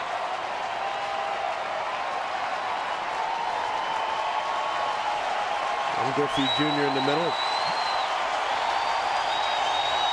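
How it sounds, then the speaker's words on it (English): Baseball crowd at a Padres–Mariners game in Seattle, a steady roar of cheering and applause filling the ballpark while an announcer talks over it, with a few thin whistle-like tones rising above the noise. "Crowd making some noise"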